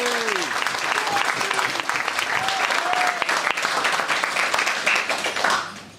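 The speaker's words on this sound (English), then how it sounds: "If we could have one more round of applause." Wedding guests give a full, steady round of applause for singing waiters during the reception speeches, with a few voices and cheers over the clapping before it trails off.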